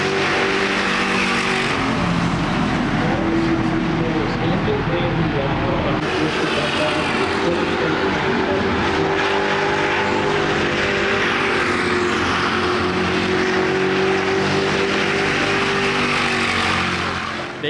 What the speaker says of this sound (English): They have just sent the pace car out.